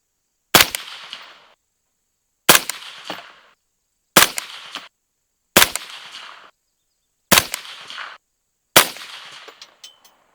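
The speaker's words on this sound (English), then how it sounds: "I got 6 rounds of this old S&B 223 ammo loaded in here, and we're going to shoot the bottom target down there" Six rifle shots from an IWI Carmel firing old S&B .223 ammunition at a range target, each a sharp loud crack with a short decaying tail, evenly spaced roughly every one and a half seconds.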